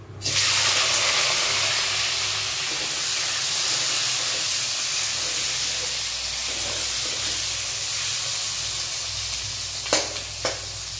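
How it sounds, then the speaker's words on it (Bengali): Capsicum, onion, tomato and green chilli hit hot oil in a wok with a loud, steady sizzle that holds for the whole stretch, a couple of sharper crackles near the end, with no talking. "এবার কড়াইতে এই ক্যাপসিকাম, পেঁয়াজ, টমেটো, কাঁচা লঙ্কাটা দিয়ে দেবো।"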